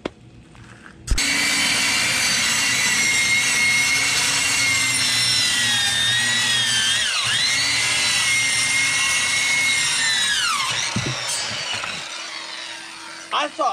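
A handsaw cuts through a piece of wood on a well-pump install, its steady rasping strokes loud and continuous for about ten seconds before stopping.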